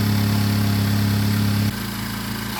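A Subaru BRZ engine idles while warming up, a loud steady low rumble that drops to a quieter, smoother idle partway through.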